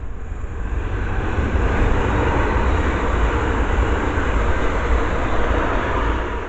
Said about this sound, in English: And the next train passed by is a pair of 350s.